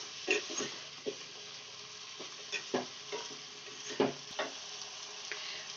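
Chicken added to a spaghetti sauce in a pan sizzles softly under a series of sharp stirring clinks and scrapes, about eight distinct strokes spaced irregularly over a quiet background.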